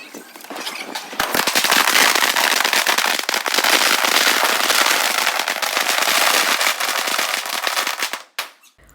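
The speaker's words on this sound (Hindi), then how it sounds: "हमने थोड़े पटाखे फोड़े, फुलझड़ी वगैरह जलाई" Diwali firecrackers and sparklers go off close by, a dense, loud, continuous crackling and popping that runs for several seconds before cutting off abruptly, with a few sharp bangs near the end.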